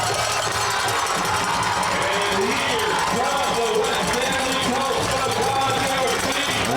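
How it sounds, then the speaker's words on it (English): A large crowd at a high school football game between North Stanly and West Stanly roars continuously in a stadium, a dense, steady wash of cheering with announcer voices talking over it. "Listen to that crowd."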